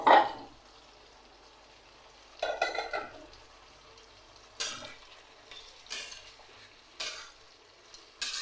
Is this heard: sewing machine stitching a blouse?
no